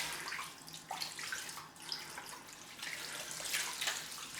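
Tap water runs steadily from a faucet as a face cloth is wetted for a cold rinse during a head shave, a soft continuous splashing hiss with no talking.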